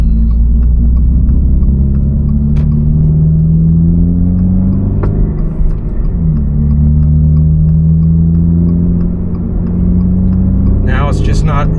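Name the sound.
GR86/BRZ sports car with AWE Touring exhaust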